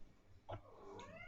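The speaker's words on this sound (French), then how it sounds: "il y a le chat qui réclame déjà des croquettes" A hungry cat meows indoors, with two short, fairly faint calls about half a second apart and no talking.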